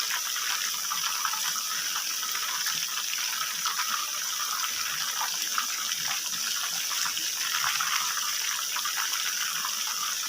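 Chicken frying in oil in an Old Delhi-style kitchen, a steady dense hiss of bubbling oil that holds evenly and close for the whole stretch with no talk.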